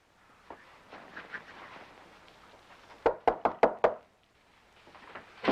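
Someone knocks on a door in a TV detective drama: four or five firm, evenly spaced raps sound close and loud, following a stretch of quiet rustling and movement.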